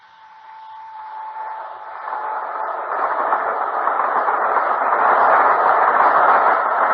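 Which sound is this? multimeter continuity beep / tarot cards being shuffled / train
train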